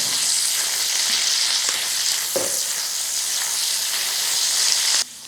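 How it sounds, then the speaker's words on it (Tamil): Onions sautéing in a pan for chicken pineapple, a steady close sizzle with a few stirring scrapes, continuous throughout with no talk. "இப்போ வெங்காயம் நல்லா வதங்கிடுச்சு."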